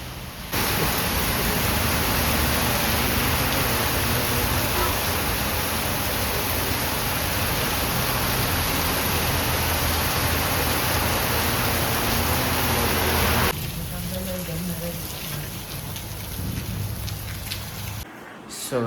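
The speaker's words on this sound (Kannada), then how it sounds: "ಸಿಕ್ಕಾಪಟ್ಟೆ ಮಳೆ ಆಗಿದೆ" Heavy rain pours in Manipal, Udupi, as a dense, loud, continuous hiss that holds steady for most of the span before dropping to a softer downpour near the end, with no talking.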